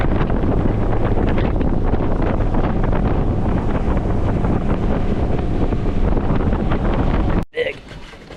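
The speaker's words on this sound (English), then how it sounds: "It's super windy right now." Strong wind buffeting the microphone on open water, a loud continuous roar that cuts out abruptly near the end, followed by quieter ambience.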